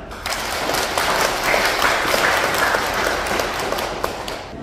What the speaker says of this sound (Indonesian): Kita tepuk tangan juga.